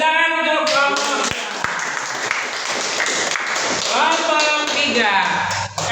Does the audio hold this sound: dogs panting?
no